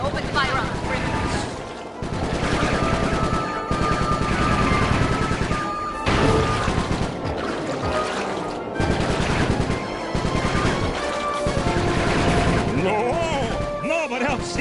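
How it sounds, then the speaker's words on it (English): Rapid aircraft gunfire blasts loud and continuous in the Sly Cooper video game, sustained bursts hammering with brief gaps, mixed with crashes and game music. "All right, pilot, double that and open fire on the criminals."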